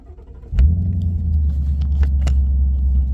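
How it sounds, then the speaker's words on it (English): A 2017 Mustang GT with an H-pipe and axle mufflers heard from inside the cabin as it starts: a sudden loud engine catch settles into a deep, steady, rumbling idle with faint clicks. "I'll just post a interior sound of it. And I'll get the start button."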